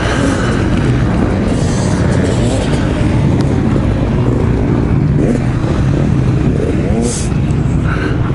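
A KTM adventure or enduro motorcycle such as the 1090 Adventure R or 690 Enduro R pulls off for a test ride in Arizona, its engine loud and steady throughout, with wind rush and voices mixed in.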